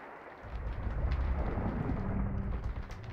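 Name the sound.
storm with thunder and pouring rain effect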